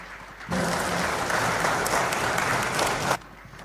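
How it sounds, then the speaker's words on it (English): Audience applause at a university summer school closing session as the Provost is called up, a dense burst of clapping lasting under three seconds that starts and stops abruptly. "Please give him a round of applause"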